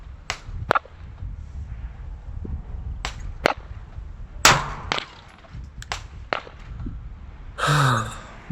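Rifle shots fired at targets 100 yards away in gusty wind ring out as sharp, loud cracks, about ten spaced irregularly over several seconds, with wind buffeting and faint background noise between them.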